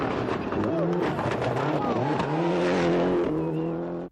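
Toyota rally cars race on a 1995 World Rally Championship stage and fly over the famous jump at Pfaff, with loud engine roar and revving under commentary.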